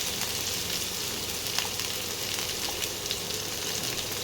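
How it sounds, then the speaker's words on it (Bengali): Large cut potato pieces sizzle steadily in hot oil left over from frying fish, a close, continuous crackling fry with small pops and no talking. "এবারে আমি ওই তেলের মধ্যে একটা আলু, বড় আলু কেটে রেখেছিলাম, সেটা এবার দিয়ে দিলাম"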